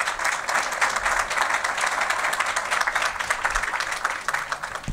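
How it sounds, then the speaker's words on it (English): Sustained applause from a gallery audience at a metal origami exhibition event, steady and even dense clapping that fills the room without pause. "please give another round of applause to Ms. Reatig."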